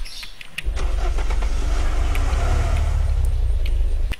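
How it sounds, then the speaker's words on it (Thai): Fastest car in the video game Unturned starts up and drives, a loud low engine rumble holding steady after a brief click, close and continuous with no talk. "นี่คือรถที่ขับเร็วที่สุดนะ ในเกม"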